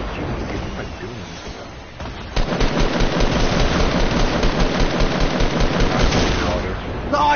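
Gunfire in Fortnite, a dense run of rapid automatic shots that starts after a quieter opening and keeps firing to the end, with voices talking underneath.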